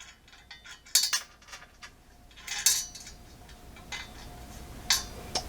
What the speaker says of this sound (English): And we'll put a locking nut on then.